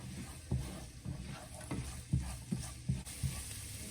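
Onions sauté in oil in a pan on a stove at medium-high heat, giving a steady soft sizzle with several distinct scrapes and stirs spaced about half a second apart, close and moderately loud.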